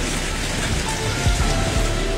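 Heavy rain pours steadily during a violent thunderstorm, a dense, loud, unbroken wash with a faint low rumble partway through. No voices are heard.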